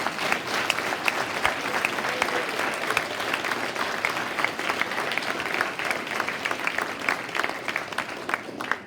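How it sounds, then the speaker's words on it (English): An audience at a high school production of the musical Rock of Ages claps continuously, a thick wash of many hands sustained at a fairly even, moderate loudness for several seconds. "Can you give them a round of applause?"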